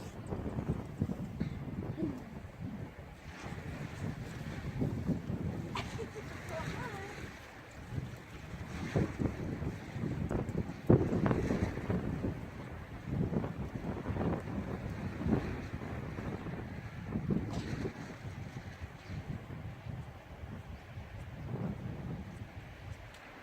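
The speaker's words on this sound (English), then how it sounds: "the wind is really bad. I don't know if it's coming through on the camera" Strong wind buffets the camera microphone outdoors during horse work with trot poles, a continuous rumbling roar that swells and dips in gusts.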